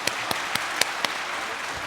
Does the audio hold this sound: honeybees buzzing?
no